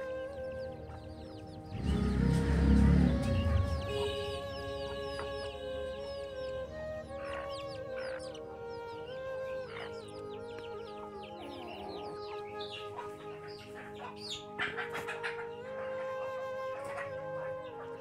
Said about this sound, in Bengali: তাহলে লোকাল মুরগিগুলো পালার সুবিধা।